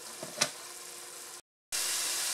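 Aromatics and spices for chili con carne sizzle steadily in a pan, giving a close, continuous hiss that is briefly broken by a short silence before the sizzle resumes.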